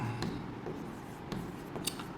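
Marker or chalk strokes on a board during a grammar lecture come as a few quiet, scratchy scrapes with short taps between them, set against faint room noise.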